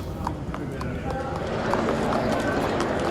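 Racehorses walk from the stables through soundproof tunnels beneath a grandstand, their hooves making a steady run of clip-clopping beats under a voice speaking throughout.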